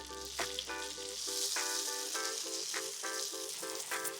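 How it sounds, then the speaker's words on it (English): Potato cakes fry in butter and oil in a pan, giving a steady loud sizzle with crackling spits and repeated clinks and scrapes over it, with no talk. "You fry them on one side until you develop like a golden crust, flip it over and fry it on the other side"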